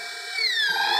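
A power drill whines at close range in one short burst, its pitch shifting as the bit bites in, cutting a hole in a rain barrel.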